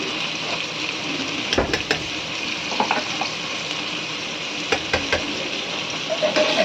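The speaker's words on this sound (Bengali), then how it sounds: "আলু আর পটলটাকে নাড়াচাড়া করে নেব" Potato and pointed gourd pieces frying in oil with salt and turmeric powder, a steady sizzle with a few scraping stirs of a utensil against the pan, close and alone.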